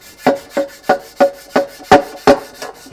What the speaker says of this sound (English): We're going to try to scrub that down.